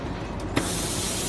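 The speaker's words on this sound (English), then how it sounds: "So these are they are spraying certain solution on this line." A robot sprays solution on a shoe-making production line, giving a steady close hiss that swells into a sharper burst partway through and then continues unbroken.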